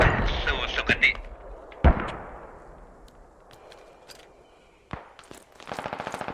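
Gunfire in the military shooter game Squad cracks in sharp single shots and short bursts, pauses, then breaks into rapid automatic fire near the end.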